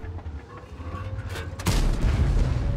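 A tank cannon on an M6A2E1 fires in a tank video game on the Steppes map, and the shell strikes dirt with one loud, heavy boom partway through, over a low engine rumble.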